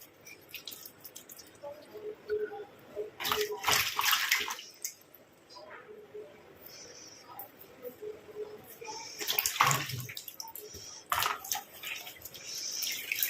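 Water splashing against skin as the face is rinsed during a gentle facial massage routine, coming in short sloshing bursts separated by quieter pauses, close by, with faint dripping between.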